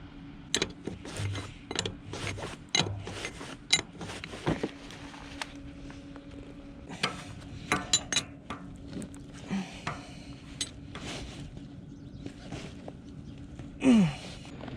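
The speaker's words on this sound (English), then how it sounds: "I'm just gonna get 2 open end wrenches and we'll tighten them down" Metal clinks and scrapes of open-end wrenches tightening the electric drive motor's mounting bolts on a John Deere 7220 tractor, coming in irregular bursts of clicks and taps with quieter gaps between them.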